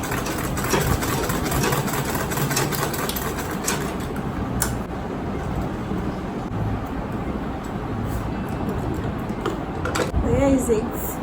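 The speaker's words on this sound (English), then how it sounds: "I'm just going to top stitch on it now." A sewing machine topstitches an Ankara fabric bag with a steady, continuous mechanical whir that runs loud and close for the whole stretch, with brief shifts in tone along the way.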